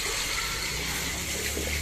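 Water pours steadily into a pan while fish is cooked with masala, a continuous close hissing splash lasting under two seconds.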